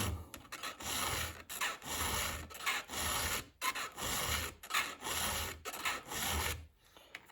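Hand filing of a STIHL chainsaw chain, close rhythmic rasping strokes of a file across the cutter teeth in bursts separated by short pauses, with a final pause near the end.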